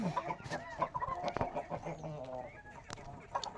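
A rooster clucks and chatters close by in short, irregular bursts, fairly quiet with some soft background noise.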